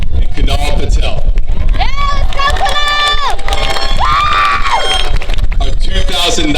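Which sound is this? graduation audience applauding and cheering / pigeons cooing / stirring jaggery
graduation audience applauding and cheering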